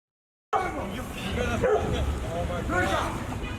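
Dogs bark and yip at a Toronto homeless encampment during a police disruption, sharp excited bursts and a whimper mixed among voices, starting abruptly after a brief silence.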